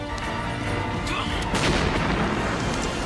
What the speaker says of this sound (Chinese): 一个未死的队友扔出了手雷